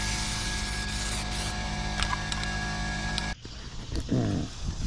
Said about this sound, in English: spray paint. It's just a guide coat.